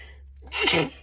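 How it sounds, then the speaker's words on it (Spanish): A single close sneeze from a woman set off by incense, a short sharp burst after a quiet moment, alone with no talking. "lo que pasa es que yo utilizo mucho incienso en mi casa y hay veces, o sea, que me pone a estornudar"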